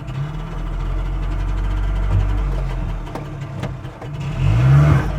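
A Messerschmitt KR200 microcar's small engine revs up as it pulls away, a steady low drone rising in pitch with a sharp climbing rev near the end, loud and close with no talking.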